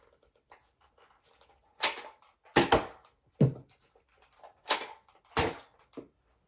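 A Nerf N-Strike Element EX-6 revolver blaster fires foam darts in several sharp, close snaps spaced a second or so apart, with faint mechanical clicks between shots.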